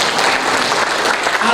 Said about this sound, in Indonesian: Tepuk tangan buat Tuhan kita dulu.